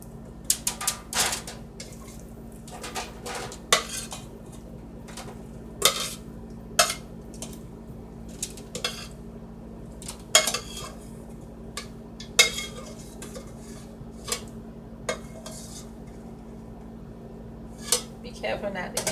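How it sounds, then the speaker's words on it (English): Candy-coated popcorn is scraped and spread back into a metal baking pan, giving irregular clinks and scrapes of utensil on pan over a steady low hum, with loud clatters scattered throughout and no talking. "I'm going to spread this back into my pan and put it in the oven"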